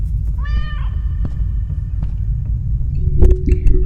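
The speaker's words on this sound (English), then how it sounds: "My kitty cat." A cat gives one short, clear meow near the start over a steady low rumble, followed by scattered clicks and taps.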